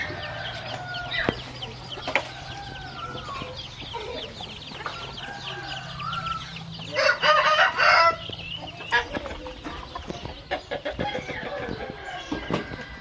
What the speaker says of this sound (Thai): ไก่หลังบ้าน